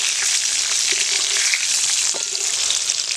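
Pointed gourd (potol) frying in oil in a pan, a dense continuous sizzle heard up close, with a few faint clinks of stirring.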